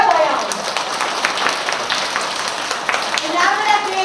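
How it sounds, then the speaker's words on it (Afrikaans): Children clapping their hands together in a classroom, a dense sustained patter of many small hands close by, fairly loud and steady throughout, with a teacher's voice speaking over it. "Maatjies, kom ons klap vir ons aarde."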